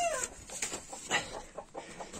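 Backyard chicken clucks in short, separate bursts, several brisk clucks spaced across a couple of seconds, fairly close and moderately quiet with no talk.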